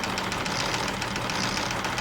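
A small 1920s–30s Joseph Falk or Schoenner overtype model steam engine runs faster, chugging rapidly and steadily in a dense, even knocking rhythm with no voices.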